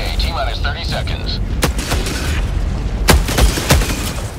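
Gunfire and explosions in Helldivers 2, with sharp separate shots and booms cracking out near 1.6 s and again around 3.1–3.8 s over a dense, rumbling battle din, with a voice talking in the first second.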